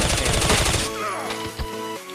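Rapid gunfire from a Counter-Strike match, a dense burst of loud shots over the first second, then trailing softer pops and clicks above a steady game hum.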